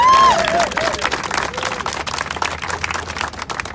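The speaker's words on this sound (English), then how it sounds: "Give yourself a round of applause." A crowd applauds and cheers at an outdoor political gathering: loud, dense clapping that swells at once and carries steadily throughout, with a few shouts mixed in.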